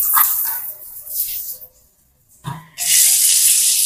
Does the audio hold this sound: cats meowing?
no